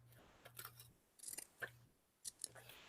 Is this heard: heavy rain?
no